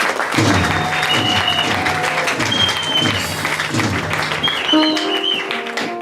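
A church congregation claps together in a loud, sustained burst, with scattered voices and a sustained musical tone running underneath.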